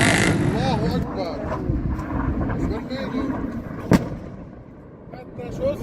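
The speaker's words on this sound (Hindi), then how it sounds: "هي الضربة هي هان ورا الزهراني كده المحطة" An airstrike explosion goes off behind the power station at Zahrani, Lebanon, as one sharp distant boom partway through, set against rumbling outdoor ambience and excited voices talking.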